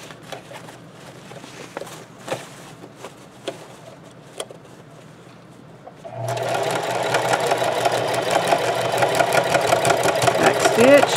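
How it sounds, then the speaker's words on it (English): A sewing machine back stitches a tote bag handle, its steady mechanical hum starting after a stretch of quiet handling clicks and continuing close and loud to the end. "Get a little back stitch on that handle."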